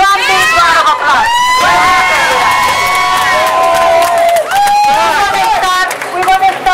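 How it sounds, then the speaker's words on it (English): Rally crowd cheering and shouting loudly with whoops, dense continuous roar across the whole stretch; applause claps are not distinct beneath the shouting voices. "Come on, one big round of applause."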